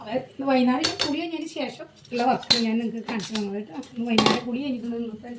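Pots and dishes clatter and clink in irregular bursts as they are washed, sharp metallic knocks scattered beneath a person speaking close by.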